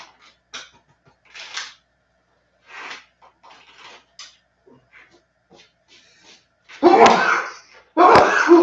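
Two loud, explosive sneezes close together near the end, after a stretch of quiet, scattered small sounds and faint murmurs, during a home brew day.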